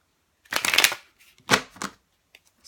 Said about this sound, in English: So nice to shuffle as well.